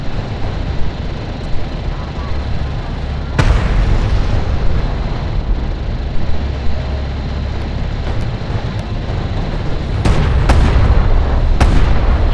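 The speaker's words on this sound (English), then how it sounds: "Light attack vehicle is under fire." Combat in the real-time strategy video game Homeworld: Deserts of Kharak, with a steady wash of distant battle rumble broken by several sharp, loud gunfire impacts and blasts.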